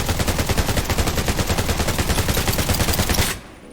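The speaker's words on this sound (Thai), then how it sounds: "ไม่โดนสักนัดน่ะไอ้กระสุนป้องปืนเนี่ย" Rapid turret gunfire in the survival shooter Undawn, a loud, steady automatic burst of evenly spaced shots that stops abruptly near the end.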